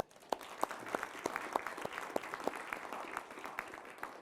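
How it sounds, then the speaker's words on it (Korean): Audience applause for the panelists at a Seoul National University education reform panel discussion marking an anniversary. Steady, moderately distant clapping runs the whole stretch, with individual sharp claps standing out over the crowd wash. "저희들에게 귀중한 시간을 주신 그 대담자분들께 박수로 감사드리고 싶습니다."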